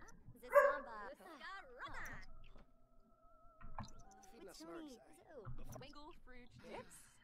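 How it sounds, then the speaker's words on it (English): Short yipping dog barks from a pet dog in The Sims 4, repeating at intervals under steady talking and game background sounds. "My dog is still barking and slightly annoying."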